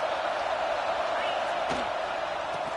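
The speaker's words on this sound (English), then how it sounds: "This crowd trying to make life miserable for this offense." A stadium crowd at a football game keeps up a dense, steady roar that fills the space without letup, with a sharp thump partway through and no clear talking above it.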